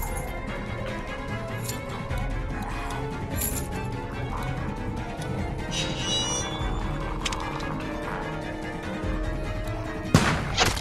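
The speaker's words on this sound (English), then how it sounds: "I thought I heard a gunshot." Gunfire from Telltale's The Walking Dead game, with sharp bursts over a dense, continuous game soundscape and a louder impact near the end.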